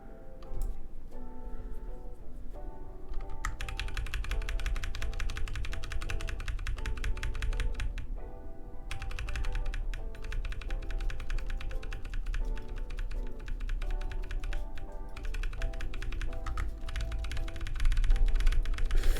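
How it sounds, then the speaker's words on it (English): Rapid computer keyboard typing with a key hammered over and over to undo edits while building a game in Godot, a steady dense clatter of close, loud keystrokes running continuously with brief pauses. "furiously spamming the undo key"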